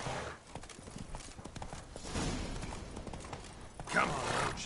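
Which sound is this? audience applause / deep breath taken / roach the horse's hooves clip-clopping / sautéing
roach the horse's hooves clip-clopping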